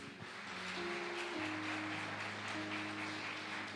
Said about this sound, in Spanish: Denle un aplauso al Señor tan bonito.